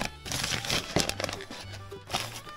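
Packaging crinkles and crackles as a new replacement oil pump for a car is unwrapped, with close, continuous rustling and a few sharper cracks over a few seconds.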